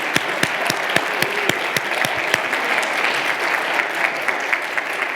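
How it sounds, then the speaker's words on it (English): Conference keynote audience applauding the Evanta team, a loud, continuous burst of many hands clapping with a few sharper claps close by. "Let's give the Evanta team a round of applause for what they have done."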